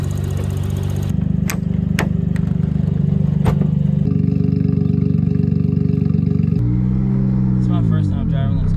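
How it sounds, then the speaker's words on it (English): A Suzuki Cappuccino engine cranks, starts and runs, a loud droning engine with clicks and clatter, then revs rise and fall as it pulls away; voices are audible over it. "What we're gonna do now is start it. I want to drive it around the block a couple times"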